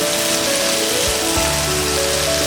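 Okra and onion frying in a pan on a medium flame, giving a dense, steady sizzle like rain on a surface, with a faint low hum running underneath.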